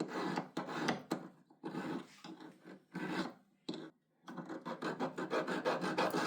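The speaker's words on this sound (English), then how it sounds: "Use a large triangular file to smooth out the rough edges" Rhythmic rasping of a large triangular file smoothing the rough edges of a sterling silver ring shank, strokes back and forth in short bursts with brief pauses, close up.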